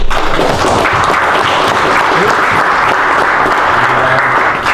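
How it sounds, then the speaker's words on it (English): A school audience gives a loud, full round of applause for Professor Brian Schmidt, dense continuous clapping sustained throughout in a large room. "So if we could just give him a round of applause"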